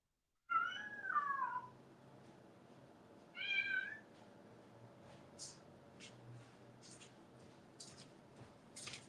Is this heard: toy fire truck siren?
no